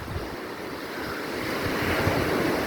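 Wind and surf at a seashore, a steady roar of breaking waves mixed with blustery wind buffeting the microphone, swelling slightly louder toward the end with no voices.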